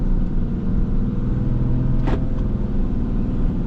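A 2020 Ram 3500 dually pickup truck pulls out of a driveway, its engine a steady, close, continuous low rumble with one brief higher whine partway through.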